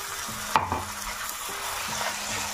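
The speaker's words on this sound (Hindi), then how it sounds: "अच्छा इनको भून लेती हूँ," Tomatoes and onion frying in a pan at home give a soft, steady sizzle with a sharp stir or clatter near the start and faint scraping throughout, with no voices.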